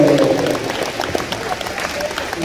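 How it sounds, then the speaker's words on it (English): Applause from an audience at a junior high school awards ceremony, a steady patter of clapping that runs for a couple of seconds with a voice speaking over the start. "Let's give an applause"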